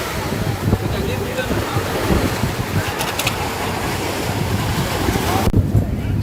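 Calm sea surf washes continuously onto Kulasekarapattinam beach, a steady broad rush mixed with gusty wind buffeting the microphone and faint voices in the background.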